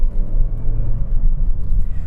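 A naturally aspirated Mazda MX-5 NC engine drones steadily from inside the moving car, a loud low rumble with a smooth, even tone throughout and no talking.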